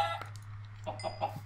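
Chickens in Minecraft give several short clucks in quick succession over a steady low background hum, close and clear with no talking.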